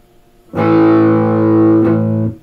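A Peerless ES-345 electric guitar played through heavy distortion rings out a single loud, sustained chord, held for nearly two seconds with a brief re-strike partway through before it cuts off, with no talk over it.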